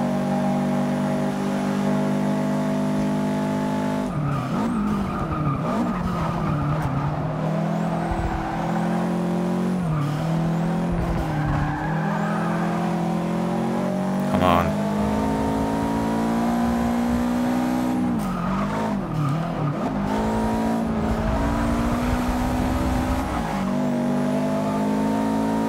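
A Honda Civic with VTEC races in Forza Motorsport 6, its engine screaming loud and steady while revving and shifting through gears, with brief tire squeals among other race cars.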